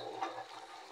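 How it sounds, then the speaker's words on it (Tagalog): Strong water gushing from a repaired village water line in Sitio Kubuhan, a steady rushing splash that stays loud and close for the whole second with no voices. "Malakas tong tubig na to. Ito yung pinakamalakas sa buong Kubuhan."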